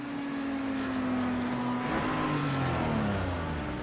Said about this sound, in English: The car sounds so wild up here too, and the sound reverberating or whatever you call it, bouncing off the walls is just wild to me.